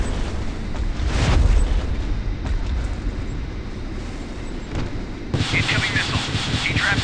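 Weapon fire and explosions hit an enemy ship in the naval combat game Warship Mobile 2, a dense, rumbling roar with a heavy low boom early on and a harsher blast surging near the end.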